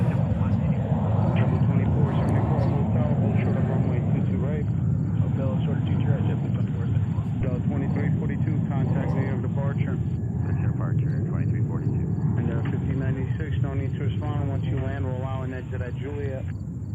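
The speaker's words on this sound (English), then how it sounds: "We have American Airlines coming up with a 777-200 heading to Buenos Aires." An American Airlines Boeing 777-200 jet departing JFK, a steady loud engine roar with a high whine, heard over a continuous bed of people talking nearby.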